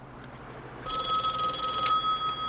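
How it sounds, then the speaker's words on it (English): A telephone bell rings steadily and fairly close in a quiet room on a 1970s television crime drama set, a continuous bright trill that begins about a second in. "Tony, phone"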